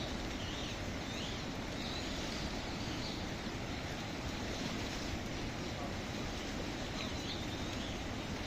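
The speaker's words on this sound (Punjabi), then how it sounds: "ਹੁਣ ਤੇਜ਼ ਨਹੀਂ ਹੋ ਗਿਆ ਪਾਣੀ" Fast river water at Ropar, Punjab, rushes in a continuous, heavy roar, steady and unbroken throughout, with no voices.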